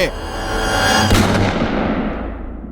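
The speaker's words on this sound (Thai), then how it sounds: "เขาก็จ่อปืนเข้าที่หัวของตัวเอง ก่อนจะลั่นไกทันที" A single loud gunshot sound effect in a Thai audio drama, a sharp blast that booms and decays into a fading rumbling tail over a couple of seconds, with no talk over it.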